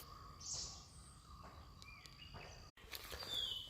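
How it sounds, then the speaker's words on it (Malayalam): Birds calling around a small forest temple in Wayanad, reached by stone steps, with a few thin, high chirps and whistles in a quiet, faint outdoor setting and a brief rustle near the end. "ഇവിടെ ആകെ കിളികളുടെ മാത്രം ശബ്ദമുള്ളൂ കേട്ടോ"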